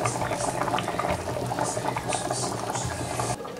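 Guatemalan chicken jocón sauce simmers in a pot, a steady, close bubbling and sputtering with a low rumble underneath, continuous throughout and without any talk.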